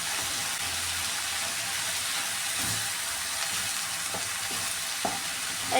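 Bitter gourd and grated coconut for a thoran are stirred in a hot pan, giving a continuous close sizzling hiss with a few soft scraping knocks from the spoon.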